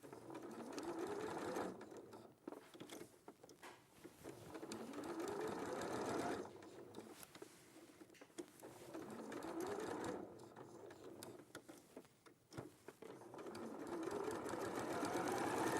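A 680 sewing machine stitching through a quilt with an ordinary presser foot, whirring in long runs broken by brief pauses, with a voice talking faintly underneath.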